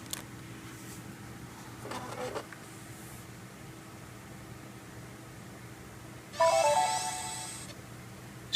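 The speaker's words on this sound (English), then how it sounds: "So you can see it has a cool little boot animation and sound there." A short electronic startup chime rings out over a low steady hum, preceded by a brief burst of mechanical noise; otherwise quiet.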